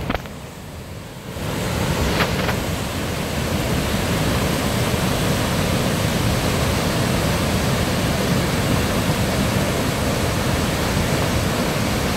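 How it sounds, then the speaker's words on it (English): Salmon Creek Falls roars nearby, a dense, constant rushing wash of falling water that swells in after a brief quieter moment and holds steady, with no talk. "I'm here at Salmon Creek Falls."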